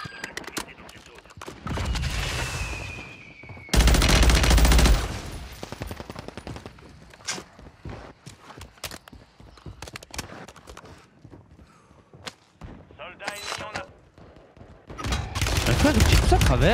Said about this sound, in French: il tire tout à travers, mais il y a tout qui passe à travers